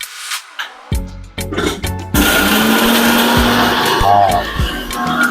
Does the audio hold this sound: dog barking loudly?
no